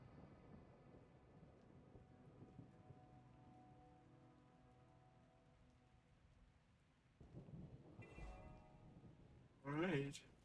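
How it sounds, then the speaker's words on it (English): Rain falls steadily in Guild Wars 2 under low tonal game music, then a faint rumble of thunder rolls in near the end, with a brief louder burst at the close. "Rumbles and lightning, very, very frightening me."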